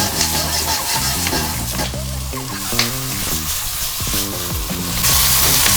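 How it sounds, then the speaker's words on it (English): Spring onion stir-frying in a hot wok over high heat, a loud continuous sizzle with rhythmic tossing and scraping of the metal pan, swelling to a brighter hiss toward the end. "You want to keep it high heat at all times. And at this stage you want to add the spring onion."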